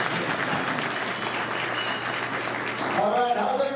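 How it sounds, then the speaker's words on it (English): Steady, full applause from an economic outlook conference crowd, a continuous wash of clapping, with a voice starting up near the end. "You can applaud it."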